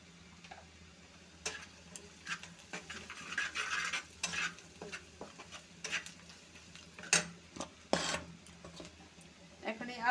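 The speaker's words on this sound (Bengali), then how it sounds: "দিয়ে দিচ্ছি পেঁয়াজ কুচি, পেস্টটা একটু ভেজে নেব।" Chopped onion and spice paste fry in a pan for a taro curry. A soft sizzle runs under repeated spatula scrapes and clinks against the pan, close by.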